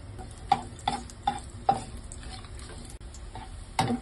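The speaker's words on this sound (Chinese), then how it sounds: "咁就爆香啲姜先" Ginger frying in hot oil in a wok over medium heat, a soft steady sizzle broken by several sharp scraping stir strokes spaced about half a second apart, close and moderately loud with no voices.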